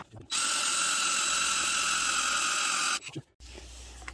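Power drill boring out a broken Harley-Davidson bolt: a loud, steady high-pitched whine runs for about three seconds, then stops abruptly, followed by a brief clatter and quieter low hum.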